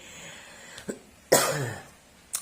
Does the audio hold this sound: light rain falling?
no